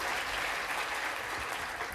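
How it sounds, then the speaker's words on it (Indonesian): Crowd applause for Pak Wiwin at an online church service, steady and fairly loud clapping from many people that lasts throughout. "Nah, tepuk tangan untuk Pak Wiwin saudaraku."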